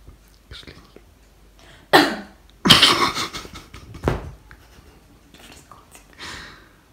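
A person coughs several times in sharp bursts, with a couple of louder hacks near the middle and softer breathy sounds before and after, fairly close.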